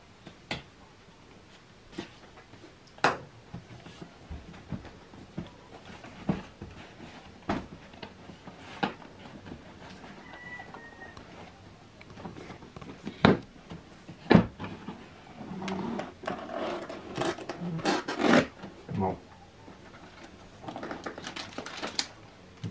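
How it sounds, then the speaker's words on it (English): Asus ROG Strix G15 laptop packaging being unpacked indoors, with scattered sharp rustles, taps and clacks of box and wrapping handling, growing busier and denser toward the end with bursts of crinkling. "Let's unpack it."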